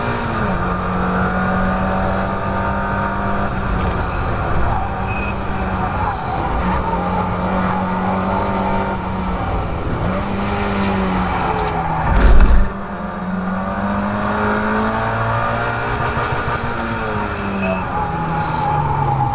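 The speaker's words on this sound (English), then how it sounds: "You can hear me on the rev limiter going into that final hairpin." Mazda MX-5 race car at Croft circuit, its engine buzzing loudly and steadily with repeated rises and dips in pitch as it holds near the rev limiter, a brief thump midway, under a voice talking.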